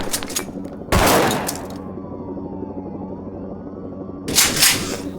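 Gunfire in the video game Zero Hour, a loud close burst of rapid shots, then a lull with a low hum and faint whine before a second burst of firing.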